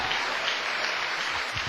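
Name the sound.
audience applause in church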